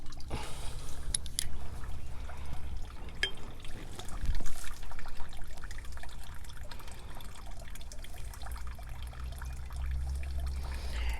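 A Brugmansia cutting of the Santa Rosa variety is pushed into a container of water, giving soft splashing and trickling that swells briefly near the middle, with nobody talking.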